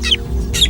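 A bird sounding an alarm call to warn meerkats of a hunting eagle: two brief, sharp, high chirps in quick succession, close and loud over a low background hum.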